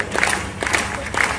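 Audience applause and crowd noise at an all-India Hindi poetry gathering (kavi sammelan) in Guna, Madhya Pradesh, with bursts of clapping and cheering rising in waves across a large crowd.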